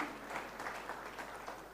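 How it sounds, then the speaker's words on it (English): Congregation clapping at a church banquet service, a steady wash of applause filling the short moment without any voices on top. "Give the Lord a big clap offering"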